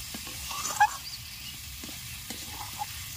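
Potatoes with spices frying in a pan, a low continuous sizzle broken by a sharp clink of a utensil and a few light stirring taps.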